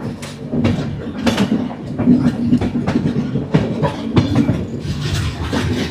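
A Sealdah Rajdhani Express passenger train runs on the tracks where the Sealdah–Dankuni line splits from the Howrah–Dankuni main line, its wheels clattering in a steady rhythmic clickety-clack with a continuous rumble, close and fairly loud.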